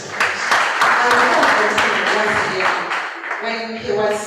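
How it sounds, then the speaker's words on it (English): An audience at a university law society's Lawyers' Day event applauds a professor, a dense, steady wash of clapping from many hands that holds loud throughout, with some voices mixed in. "this is another round of clapping for Professor."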